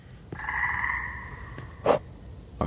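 A cricket in the video game Pine Harbor makes one long, sustained croaking buzz, fairly close, followed by two brief sharp clicks.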